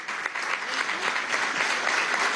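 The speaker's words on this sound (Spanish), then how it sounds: "Marlene Contreras, vamos a darle un aplauso a la compañera ministra de Turismo." A crowd claps steadily, dense applause filling the whole moment without pause, at a hotel reinauguration event in Maracay, Venezuela.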